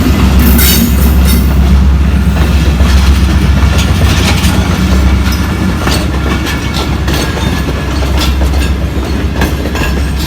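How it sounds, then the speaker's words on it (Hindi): Loud, close rumble of a train rolling slowly along the track in Tando Adam, Pakistan, with rhythmic rattling of cars and occasional metallic squeals, steady throughout. "इधर रेल जो है ना बहुत आहिस्ता चलते हैं"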